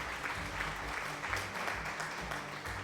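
Steady applause and clapping from a crowd during a live stream of Cities Skylines II, dense and continuous at moderate level throughout.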